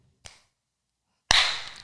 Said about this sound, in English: Goddamn claps again.